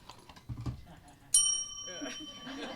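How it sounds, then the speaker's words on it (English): A single bright ding of a call bell rings out and lingers with a clear metallic tone, between some soft shuffling and quiet voices. "The call bell."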